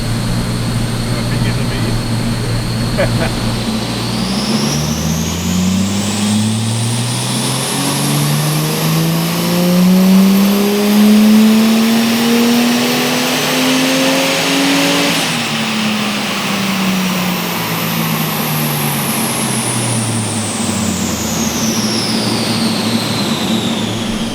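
A Ford Falcon car accelerates hard in fourth gear during a horsepower run, engine pitch climbing steadily for about ten seconds before backing off and winding down, loud and close.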